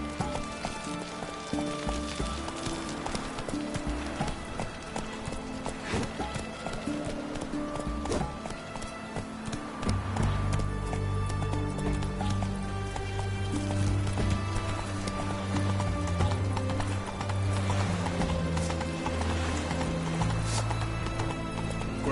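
Roach, a horse in The Witcher 3 on PS4, gallops as steady rhythmic hoofbeats over a game soundscape, growing fuller and louder about halfway through with low rumbling added.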